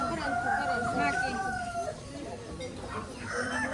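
A rooster crows with a long, wavering call at a poultry market in Manas, amid a busy background of clucking fowl and people talking nearby.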